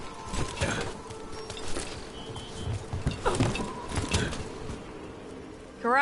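Cooing birds among other game creatures in Dragon Age: The Veilguard: soft coos and chirps over a busy outdoor ambience with light tapping and clopping, and a short warbling tone at the very end.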